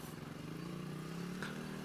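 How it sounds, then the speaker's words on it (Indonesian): Yamaha Jupiter MX motorcycle engine idling after being disassembled and reassembled, a steady close-up putter with an even, continuous drone and no talk. "ini motor sudah hidup dan oli sudah mengalir dengan deras sedemikian rupa"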